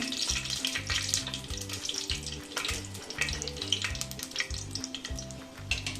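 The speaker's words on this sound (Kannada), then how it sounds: "ಚಕ್ಕೆ ಲವಂಗ ಮಸಾಲೆ ಸಾಮಾನೆಲ್ಲ ಹಾಕ್ಬಿಡೋಣ. ಸ್ವಲ್ಪ ಸಿಡಿಲಿ." Whole spices, cinnamon and cloves, spluttering in hot oil, a dense crackling sizzle with rapid pops and a recurring low rhythmic thumping underneath, steady and near, without speech.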